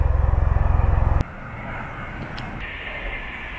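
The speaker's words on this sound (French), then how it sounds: "il y a la base aérienne de Falsbourg qui a décidé d'organiser des manœuvres" Military aircraft roar overhead during manoeuvres from the Phalsbourg air base, opening with a rapid low pulsing throb that cuts to a sustained broad engine rumble, continuous and fairly distant.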